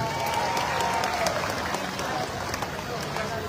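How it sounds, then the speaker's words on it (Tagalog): Audience clapping at a Philippine Independence Day anniversary gathering: continuous crowd applause under a babble of voices and a faint tone, fairly even throughout. "mukhang malakas yung palakpak nyo"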